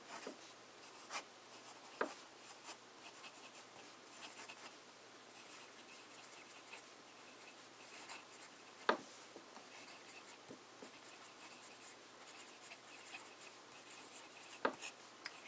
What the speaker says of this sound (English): Let's have a look at some italic writing.